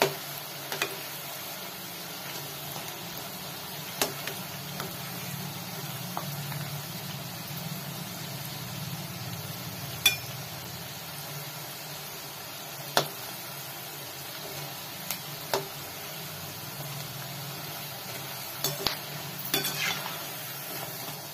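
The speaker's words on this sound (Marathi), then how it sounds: "मस्त अगदी लो गॅसवरच आपण हे तळायचं आहे" Egg pakoda frying in oil over low heat, a steady soft sizzle with occasional sharp clicks of a utensil, no voices.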